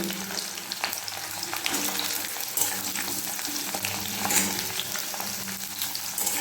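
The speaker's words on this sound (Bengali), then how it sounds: "উচ্ছেটা একটু ভাজা ভাজা হয়ে গেলে এর মধ্যে দিয়ে দেবো আমি গাজর" Bitter gourd and carrot frying in a pan, a steady close sizzle with soft stirring scrapes running continuously throughout.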